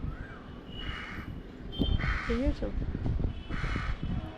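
Young crows caw from nearby, three short harsh calls spaced a second or so apart, while a person talks over them in a quiet outdoor setting.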